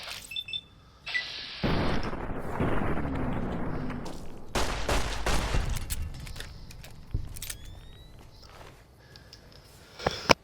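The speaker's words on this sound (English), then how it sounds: "Why you throw a grenade?" A grenade blast and scattered gunfire in Fallout: New Vegas: a sharp burst of booming noise, then several loud cracking shots and rumbles that trail off into quieter clanks, with a final sharp crack at the end.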